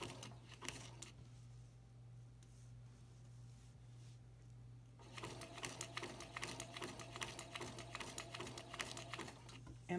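A sewing machine stitches slowly through paper, first with a quiet hum, then a faint, rapid rhythmic ticking of the needle over the second half under a low steady drone, with no one speaking.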